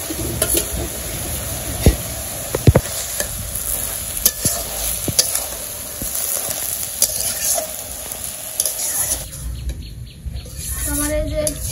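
Fish being stirred into a frying pan of water lily stems dusted with turmeric, a steady sizzle broken by sharp scraping clicks of a spatula, with faint birdsong in the background.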